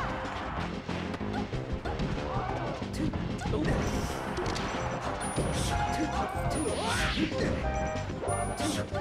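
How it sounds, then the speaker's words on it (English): Super Smash Bros. Melee doubles grand finals play with Fox landing side B attacks, heard as a loud, continuous wash of game hits, crashes and effects, with crowd noise and commentary mixed in throughout. "Wow, Fox smashing side B"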